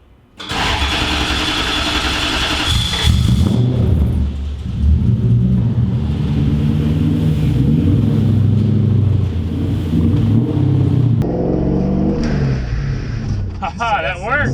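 A Datsun drift truck's engine starts and idles loudly close by, a continuous throaty rumble with a rev rising near the end, under people talking.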